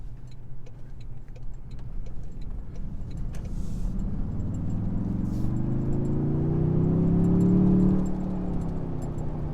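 A 2022 Toyota Tundra TRD Pro engine drones steadily while driving, with a low hum that rises and swells in pitch toward the end as it accelerates, accompanied by faint interior ticks and rattles.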